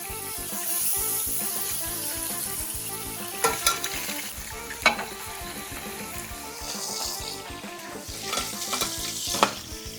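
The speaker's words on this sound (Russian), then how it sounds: "Обжариваем цыпленка с 2 сторон под грузом по 5-7 минут." Chicken tabaka fries in a pan, pressed under a weight, giving a steady close sizzle throughout with a few sharper crackles and spits near the middle and end.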